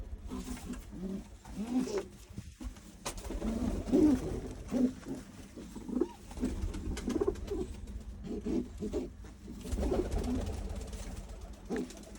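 Soft, repeated cooing of pigeons close by, low throaty calls coming in a loose rhythm amid light background noise.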